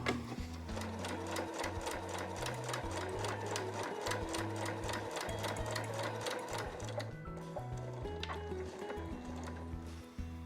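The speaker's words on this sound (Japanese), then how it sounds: "そしたら反対側も同じようにして縫っていきます。" A sewing machine stitches along tatami edging fabric, running loud and steady with a fast rhythmic needle chatter for about seven seconds, then slowing into shorter bursts near the end.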